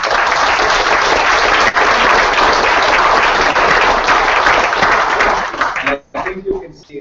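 Sustained audience applause for the organizing committees and founders at a civil society day event in Bali, loud and dense for about six seconds before thinning out as a voice begins talking.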